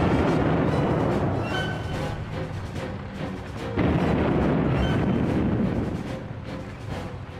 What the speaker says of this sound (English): the leading British tank, the Mail, opened fire with its 6-pounder gun,